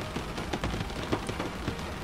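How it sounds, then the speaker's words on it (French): Rain drumming on a car from inside, a dense, close patter of drops hitting the body and glass in an even, continuous wash with brief louder taps, and no talking. "Il pleut, je peux pas sortir de ma voiture."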